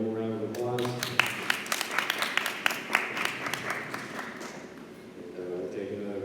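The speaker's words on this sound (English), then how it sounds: "So let's give Jada one more round of applause." A live audience applauds a presenter after a judged presentation, a dense patter of clapping that swells then thins out, with a voice speaking briefly before and after.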